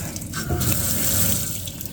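Tap water from a pump runs steadily into a small sink in a Leisure Travel Van camper, a continuous close splashing stream with no talk over it.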